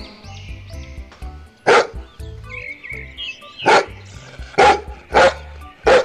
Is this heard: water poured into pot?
no